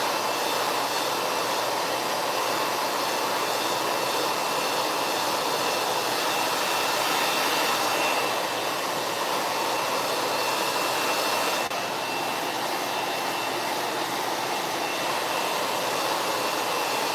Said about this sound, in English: I'm just going to blow dry it for a second so I can show you something